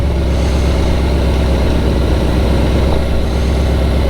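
A BMW K100 motorcycle engine, part of a café racer build, idles steadily and close by with a continuous low rumble and no voices. The running is even throughout.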